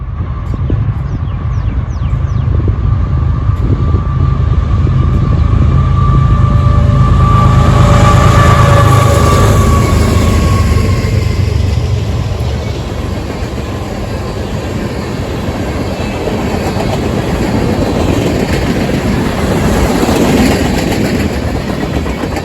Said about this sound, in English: a westbound mixed freight train appears on the Willard subdivision